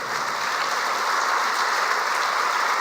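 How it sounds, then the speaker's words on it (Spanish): A church congregation claps loudly and continuously in dense, even applause, with no clear voices above it. "Dale un aplauso fuerte a Dios."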